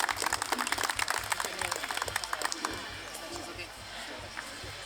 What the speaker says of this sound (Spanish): un fuerte voto de aplauso, señoras y señores